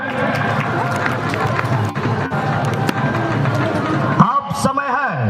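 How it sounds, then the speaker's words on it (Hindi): Crowd applause at a village football tournament prize ceremony in Dumka, a dense, steady clatter of many hands clapping outdoors that tapers off near the end as a voice begins. "तालियां तो होना चाहिए।"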